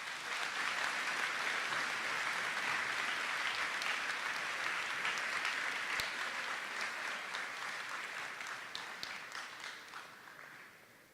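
An audience applauds award recipients at a senior awards ceremony, a steady wash of many hands clapping that holds for several seconds and then slowly fades as it tapers off.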